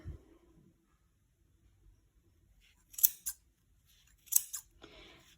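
Scissors snip through a yarn pom pom in a quiet room, giving two or three short, crisp cuts spaced about a second apart.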